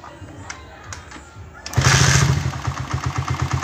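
A four-wheeled vehicle's engine is started after a quiet stretch with small clicks, catching suddenly and settling into a loud, close, rhythmic idle with pulsing beats.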